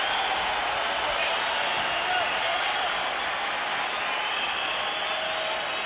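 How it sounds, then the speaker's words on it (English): A boxing crowd rising from their seats and applauding during the Klitschko versus Brock fight, producing a broad, even wash of clapping and crowd noise that holds steady from start to finish at a moderate distance. "for the first time, the crowd stands and applauds the action"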